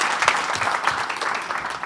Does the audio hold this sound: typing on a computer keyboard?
no